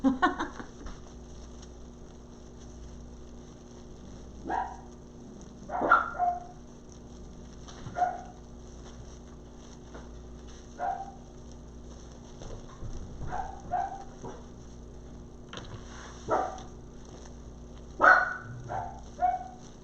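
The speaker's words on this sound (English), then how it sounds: "Bark with your outside voice." Dachshunds indoors, one of them piebald, letting out scattered single barks and short yips at irregular intervals, some sharp and close, with quiet gaps between them over a low steady hum.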